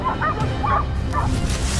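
Hunting dogs bark and yip during a wild boar hunt outdoors, a few short barks over heavy rumbling background noise.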